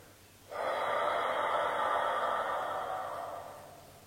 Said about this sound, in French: Et on expire toujours par la bouche.